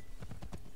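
Horse hooves clip-clopping in Assassin's Creed 3, three or four quick, evenly spaced thuds at moderate distance, heard alone without talk.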